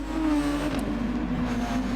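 A 1997 Formula One race car engine in Gran Turismo Sport holds a steady, close, buzzing drone at nearly constant revs, with a brief higher whine partway through.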